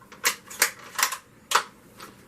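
A CVA Cascade 22-250 bolt-action rifle is worked by hand, giving four or five crisp, close metallic clicks and slides at a steady pace, with no voices.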